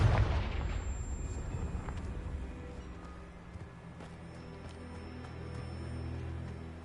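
Confringo blasting spell going off in Hogwarts Legacy gameplay, a heavy booming blast at the start that decays into a long rumbling roar with faint tonal game effects above it.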